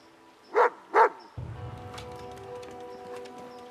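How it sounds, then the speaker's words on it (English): Dog in the video game As Dusk Falls gives two distinct, evenly spaced barks close by, then quiet rustling and movement follow. "What the fuck is the dog barking about?"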